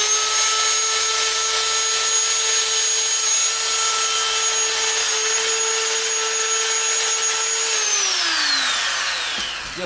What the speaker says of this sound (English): So let's sand on this just a little.